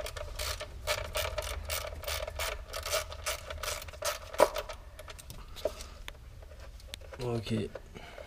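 A ratchet clicks in quick repeated bursts while loosening screws on a Peugeot/Citroën 1.6 HDi (DV6) engine during a timing belt and water pump job, with sharp metallic taps between strokes; close and fairly loud.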